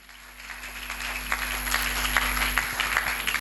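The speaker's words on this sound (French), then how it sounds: "Betela nkolo na yo maboko." A church congregation claps for the Lord during a deliverance service, with dense, rhythmic hand clapping that swells steadily louder and carries on with no speech.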